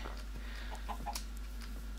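Faint, soft chicken clucks from a Minecraft chicken, a few brief scattered calls over a steady low hum.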